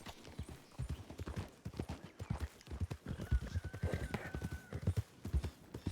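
Horse hooves clip-clop steadily in a roleplay video game, a brisk rapid rhythm of light knocks that runs throughout, fairly faint, with a short horse whinny partway through.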